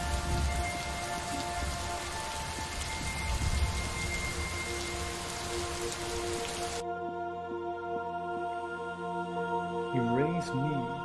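Steady rain falls in the video game Superliminal, a dense even hiss that fills the first part and then cuts off abruptly, leaving quieter tonal game sounds.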